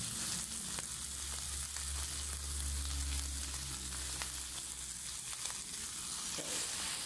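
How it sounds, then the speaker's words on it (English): Pork chops seasoned with salt and black pepper fry in a pan for a cream cheese and mushroom dish, giving a steady, close sizzle that runs on without a break, with a few light clicks from stirring and no talking. "So you can stir the sizzle"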